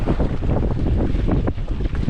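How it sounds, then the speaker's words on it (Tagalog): Strong wind roars and buffets the microphone in a constant heavy rush, with no voices. "Sobrang lakas ng hangin."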